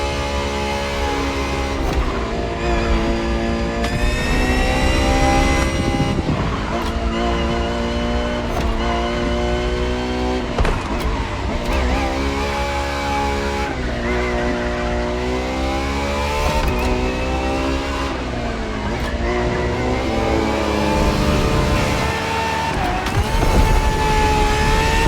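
A Ferrari FXX K engine in The Crew Motorfest revs hard and continuously, its high harmonic whine climbing and dipping through gear changes, loud and close with no voices over it.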